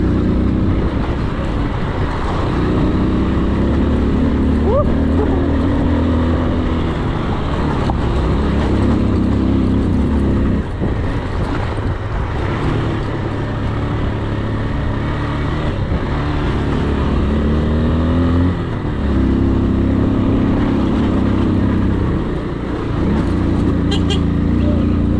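A 2023 AKT TTR 200 motorcycle riding an off-road dirt trail, its engine droning steadily up close with rising and falling revs, wind rush and rider talk throughout.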